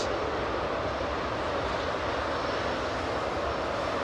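An airliner with CFM56 jet engines at Heathrow Airport gives off a steady, unbroken broadband roar that stays level and fairly loud throughout, with no voices.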